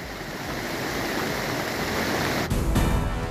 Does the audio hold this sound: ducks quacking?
no